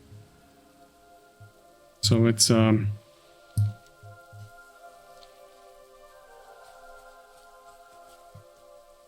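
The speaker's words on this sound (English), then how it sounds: "And it's raining." Rain falling in World of Warcraft, a soft continuous patter and scattered light ticks under game music, with a short spoken phrase near the start.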